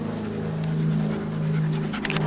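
Dogs panting heavily while paddling in shallow water outdoors, a steady close breathy rhythm with faint splashing toward the end.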